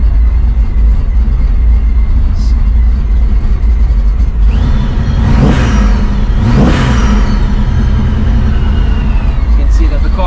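A cold, 750+ horsepower old muscle car idles with a heavy, rough rumble, then is blipped twice in quick succession, each sharp rev swelling loudly before falling back to idle.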